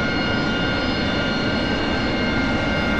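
An AV-8B Harrier jet engine in the DCS flight simulator runs with a loud, steady turbine roar and several sustained whining tones, without any talk.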